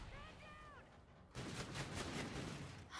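Shotgun fire in the video game Call of Duty: Infinite Warfare, a sudden loud burst of blasts and rumbling debris after a quieter opening with a brief tonal chirp.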